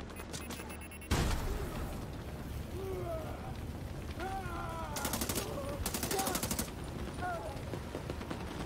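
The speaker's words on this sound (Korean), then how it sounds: "야 그만 쏴. 그만 쏴." Gunfire in The Division 2 video game comes in a sudden loud opening burst, followed by scattered rapid shots and two sharp rattling volleys. Game effects and faint sounds run underneath, and no voices are heard.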